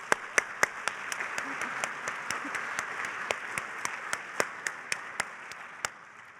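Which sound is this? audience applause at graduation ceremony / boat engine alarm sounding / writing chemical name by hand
audience applause at graduation ceremony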